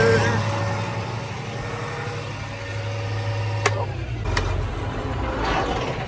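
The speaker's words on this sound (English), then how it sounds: "And I'm gonna turn off the tractor." A tractor engine runs steadily in a wet soybean field, a low constant drone with a few brief clicks and knocks over it, with no talk heard.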